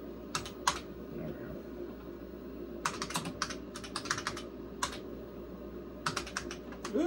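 Typing on a vintage IBM PC/XT keyboard: close, quiet clusters of crisp key clacks in short irregular bursts, separated by brief pauses.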